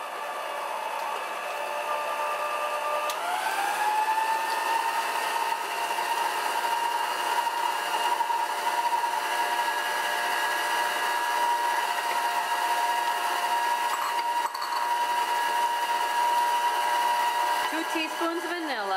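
A Hamilton Beach 63325 six-speed stand mixer beating butter and sugar: a steady motor whine that ramps up in pitch early on, then holds an even hum, with faint talking beneath it.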